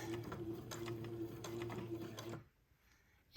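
A sewing machine stitches steadily along a pinned waistband, its needle running in a fast, even mechanical chatter for over two seconds before stopping abruptly into near silence.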